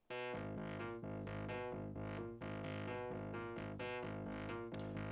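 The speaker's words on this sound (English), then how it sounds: "Pretty basic sound," A bright, buzzy synth lead plays a steady run of notes with a raw, unfiltered saw-wave tone, loud and continuous with no voices.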